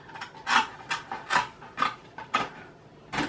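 Styrofoam edges are trimmed with a cutting tool for a floral pocket wall hanging, giving a series of short scratchy rasping strokes in an uneven rhythm, close and fairly quiet, with no talking.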